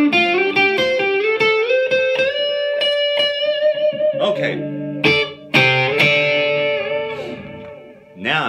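An electric guitar played through an overdrive pedal gives a dirty, distorted tone: a run of picked notes and ringing chords with sustained harmonics, loud and close, with a brief spoken word.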